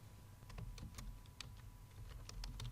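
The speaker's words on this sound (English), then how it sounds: "now I'm typing here" Keys clicking on a computer keyboard while typing into a document, a quiet scatter of light taps at an uneven pace, faint and close over a low background hum.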